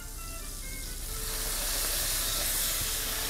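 Garlic hits hot butter and olive oil in a pan, breaking into a loud, continuous close sizzle that grows fuller and steadier as it fries.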